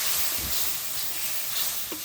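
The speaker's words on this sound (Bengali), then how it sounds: "শুটকিগুলো গলে যাচ্ছে, হালকা ভাজা হয়ে গেছে" Dried fish (shutki) frying and being stirred in a pan, a continuous soft hiss with faint scraping, close and alone.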